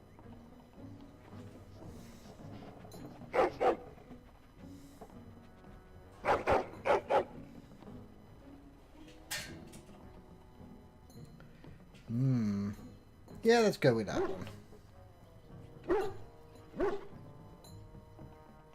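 A dog barks in short bursts inside the Dragon Age: Origins prologue, several separate volleys of yips and woofs spread across the stretch, with a voice speaking briefly between them.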